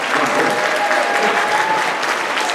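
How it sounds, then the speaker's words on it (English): An audience applauds at a school spring program, a steady, dense wash of many hands clapping evenly throughout with no voices standing out. "Give her a round of applause."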